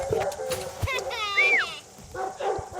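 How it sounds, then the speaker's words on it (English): A working sheepdog barks sharply while herding sheep on a farm, a few close barks and a yip among people talking nearby. "the bark is just giving him a lot more power than the heading dog on its own"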